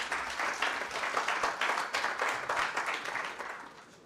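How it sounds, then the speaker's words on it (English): Applause from the audience at a Konrad Adenauer Stiftung event in Kenya, steady dense clapping that carries on at a moderate level and tapers slightly at the end. "I think she deserves better claps"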